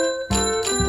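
A bicycle bell rings in a storybook reading, two bright tinkling strikes close together, the tone lingering with harmonic overtones.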